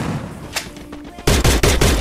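Gunfire in the Free Fire mobile battle royale game: after a quieter moment, a loud, close automatic burst of rapid, evenly spaced shots fills the last second.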